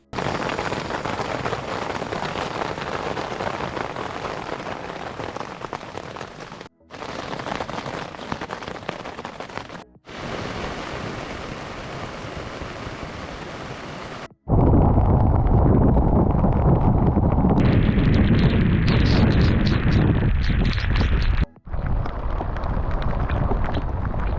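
Heavy rain and gusting wind lash a K2 two-person hiking tent in a dense, continuous roar of drops on fabric, broken by brief near-silent gaps before a louder, deeper, wind-buffeted stretch.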